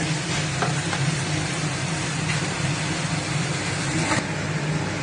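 Chicken pieces sizzling in a pan of cooked tomatoes for a spicy Bicol Express, a steady, dense frying hiss that runs without a break, loud and close.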